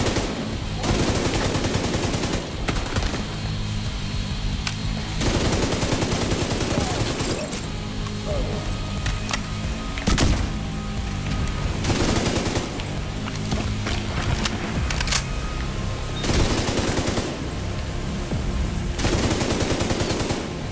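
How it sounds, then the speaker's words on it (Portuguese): Dense automatic gunfire from a firefight in the shooter game The Division 2 rattles in long, loud, near-continuous bursts with only brief pauses, under a thick wash of combat noise. "Que tiroteio é esse, velho?"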